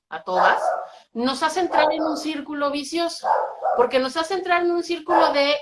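Household dogs bark and yip in repeated bursts, mixed in with and partly masked by someone talking steadily close by.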